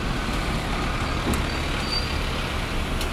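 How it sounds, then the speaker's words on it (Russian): Trucks and buses rumble along a busy street in Alanya, Turkey, a dense, loud, steady wash of engines and tires close by, with a brief hiss like an air brake partway through. "так много машин всегда по этой улице."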